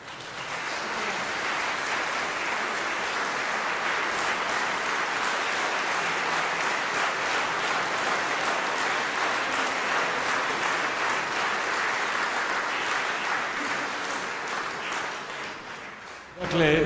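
Sustained, dense applause from a concert audience at a performance by a vocal ensemble, steady and loud for about sixteen seconds before ending abruptly.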